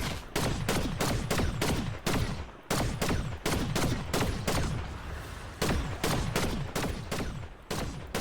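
Rapid bursts of automatic gunfire from an online shooter game such as Fortnite, CS2 or GTA 5, loud and dense, with repeated volleys separated by brief gaps across the whole stretch.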